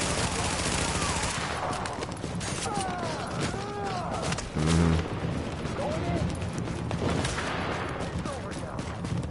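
Rapid bursts of gunfire in the video game The Division rattle on almost nonstop, with loud automatic fire, whizzing ricochets and a low boom midway, while a voice talks over the fighting.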